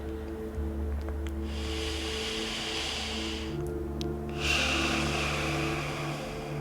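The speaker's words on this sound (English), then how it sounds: "So by doing this in the correct meditation position and breathe deep in and breathe out," Deep, slow meditation breathing while seated in a meditation posture: a long soft inhale followed by a fuller, louder exhale, close and unaccompanied by talk, over a steady low hum.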